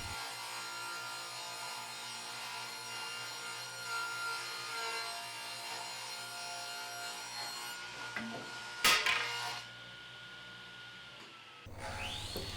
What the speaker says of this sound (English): I ripped the bench top board to the proper width